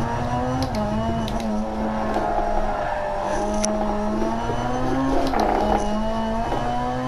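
A Ford Fiesta RX2 rally car in DiRT Rally 2.0 drones at full throttle, its engine note rising and dipping steadily through gear changes, loud and continuous with no talk.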